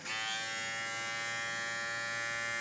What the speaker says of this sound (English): I'm gonna go ahead and turn this on for y'all so y'all can hear the clipper.